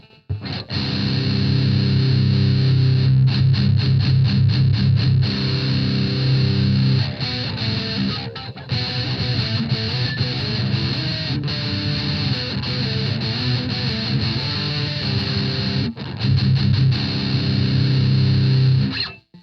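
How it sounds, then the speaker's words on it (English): Heavily distorted, high-gain electric guitar through a VOX Amplug 2 Metal headphone amp plays loud, dense chugging riffs continuously, with brief pauses between phrases. "It's starting to sound like a proper distortion, and then, you know, let's go overly gainy."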